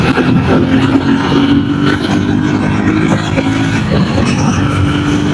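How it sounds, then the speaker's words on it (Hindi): A TVS RTX 300 motorcycle pulls hard in fifth gear under open throttle, its engine a loud, continuous droning roar that holds steady and close with wind rush, no voice over it. "so 5th gear, if I give the throttle"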